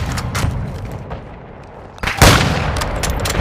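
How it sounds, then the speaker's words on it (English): Mortar strike explosions rumble through a Call of Duty Modern Warfare 2 match, a muffled boom early then a loud close blast around the midpoint followed by rolling debris and gunfire, with no talk. "Friendly mortar strike inbound."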